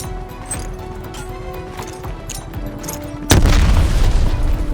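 Explosions in the shooter game Call of Duty Black Ops: a heavy boom arrives suddenly and is followed by a loud, dense rumble, after a stretch of scattered game noise.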